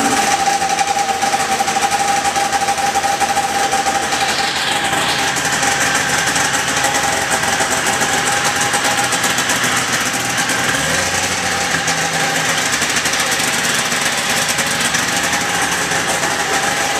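A 1979 John Deere Trailfire snowmobile two-stroke engine running indoors after startup, a steady loud buzzing drone held evenly throughout, close to the microphone.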